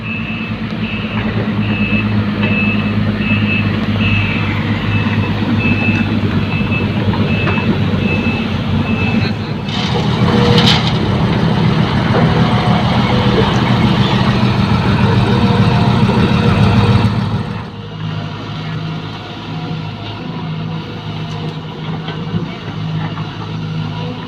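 A heavy truck idles with a loud, steady diesel drone while an excavator loads it with rocks. A brief clattering impact sounds partway through, and the engine noise drops to a quieter idle near the end.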